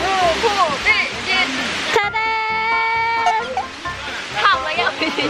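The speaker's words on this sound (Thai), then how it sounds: "ด้วยความยากลำบากคือจะให้ดูว่าน้ำตกที่ชั้นบนที่สุดที่เขาว่าสวยที่สุดเป็นยังไง" Water flowing steadily over the top tier of Erawan waterfall, a constant broad rush lasting the whole clip beneath a person talking.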